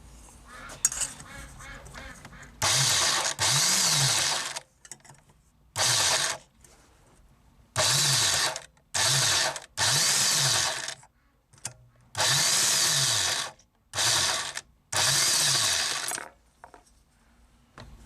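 Power cutting of excess sheet metal on the rotted lower rear hatch of a VW T3 bus: repeated loud bursts of a grinding or cutting tool, each one to two seconds long, separated by short pauses.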